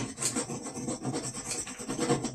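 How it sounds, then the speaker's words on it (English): Sandpaper rubs back and forth over a modified plastic drain plug, a close, steady rasping scrape in quick repeated strokes, with no talk. "Clean it up a little bit, little sandpaper."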